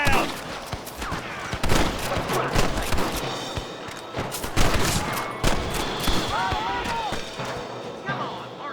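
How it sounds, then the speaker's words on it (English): Repeated gunfire from a Western shootout in the video game Red Dead Redemption, dense volleys and single loud shots crackling over several seconds, mixed with shouted voices and game sounds. "Gun them down!"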